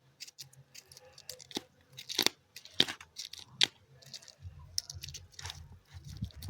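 Large rohu fish being scaled with a spoon, giving sharp irregular scraping and crunching strokes close by, quiet between scrapes, with soft handling noises.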